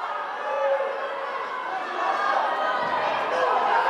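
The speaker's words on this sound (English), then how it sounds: "As you can see, the crowd is getting into it." A packed gym crowd at a high school wrestling match roars and chatters steadily throughout, a dense wash of voices that swells slightly midway, with people calling out over the din.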